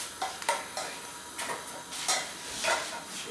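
Butter melting in a pan, a soft sizzle under scattered clinks and scrapes of a utensil against the pan, close and fairly quiet, with no talking.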